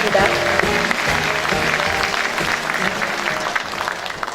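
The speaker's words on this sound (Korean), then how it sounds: "여러분 큰 박수로 맞아주시기 바랍니다" An audience at a provincial governor's inauguration ceremony in North Jeolla gives a big round of applause, dense clapping carrying on steadily beneath background music and some voices.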